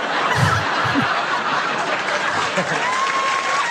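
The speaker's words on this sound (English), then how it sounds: "My mom loves those applause breaks." A comedy audience keeps up an applause break, a broad wash of clapping from the crowd with scattered chuckles and snickers rising over it near the start.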